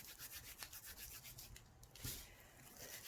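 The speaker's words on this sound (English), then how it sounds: "So I'm just rubbing it together like this to separate them." Dry green onion seed heads rubbed together between the hands to free the seeds: a steady, soft, close scratchy rustle with gentle rhythmic pulses and a slightly louder scrape near the end, no speech.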